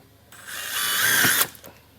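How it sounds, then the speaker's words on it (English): A power drill drives a self-tapping screw into a 2023 Jeep during trailer wiring harness installation, giving one steady whirring burst of a little over a second that rises, holds and then cuts off abruptly. "So we use a self-tapping screw to secure it."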